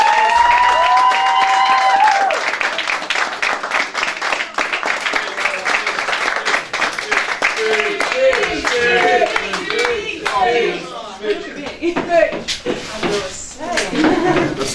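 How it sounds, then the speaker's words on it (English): A women's football team claps and cheers together for a player's 150th appearance for LCWFC, dense continuous applause with whoops rising over it, loud and close throughout. "Can we all give Holly a massive round of applause for making the video?"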